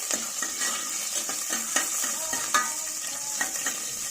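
Mustard seeds, onions and curry leaf sprigs fry in a little oil in a cooker, a bright steady sizzle broken by repeated rhythmic scraping stirs close up.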